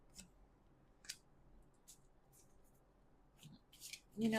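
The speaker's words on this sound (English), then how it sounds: "as I'm shuffling the cards that Spirit chose for the day" Tarot cards being shuffled by hand for a pick-a-card reading, heard as several soft, short papery riffles and flicks spaced out over a quiet background, with a louder burst of handling at the end.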